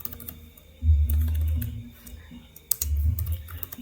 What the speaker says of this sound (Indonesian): Kita ketikkan username-nya.